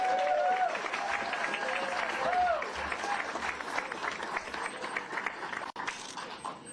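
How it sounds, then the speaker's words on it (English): Audience applause at a White House event welcoming the Irish Taoiseach, a dense, sustained clapping from a crowd that fades slightly toward the end, with some voices mixed in. "please give a round of applause for Southie's own indispensable man, Tommy M"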